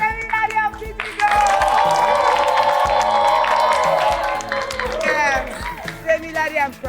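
Audience applause and cheering break out for a contest winner, a dense wash of clapping with whoops rising after a brief moment of talk and lasting steadily several seconds before tapering.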